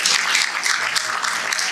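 Audience applause at a state award ceremony at a university, a continuous burst of clapping with lively uneven peaks, sounding like a packed hall, no voices on top.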